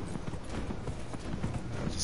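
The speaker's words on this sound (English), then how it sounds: "this horse is nice. I would not be able to run this fast if I if I ain't have this horse" Horse hooves pound in the video game Dragon Age Inquisition, a quick, steady clip-clop of a mount running, close and clear over a low ambient game bed.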